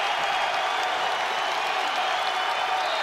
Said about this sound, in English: the crowd is exploding here at the rack